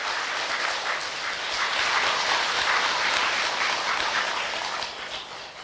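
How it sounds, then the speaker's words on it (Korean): An audience at a Buddhist dharma service at Beomeosa temple in Busan claps steadily, a dense, sustained round of applause that swells slightly and then tapers at the end. "우리 박수 한번 쳐주세요"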